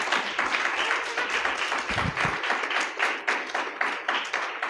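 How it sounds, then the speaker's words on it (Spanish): A church congregation at a Christmas celebration claps steadily together, a dense ongoing applause of many hands at moderate loudness with no speech over it. "Denle un aplauso al Señor."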